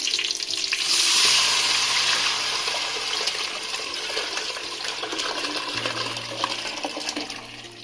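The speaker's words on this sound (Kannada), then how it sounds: "ಈಗ ನಾನು ಹಾಕ್ತಾ ಇದ್ದೀನಿ ಕಟ್ಟನ್ನು" Lentil stock poured into spices frying in a pan for holige saaru gives a loud, steady sizzle with a rushing splash early on. The hiss stays close and continuous throughout, with no talking.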